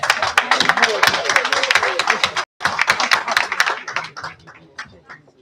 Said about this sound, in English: Bob a round of applause?